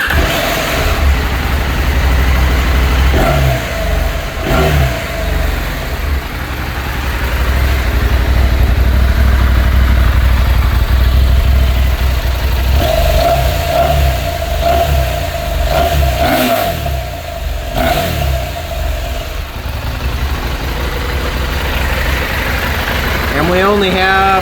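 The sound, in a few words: stock exhaust of 2024 KTM 790 Adventure motorcycle running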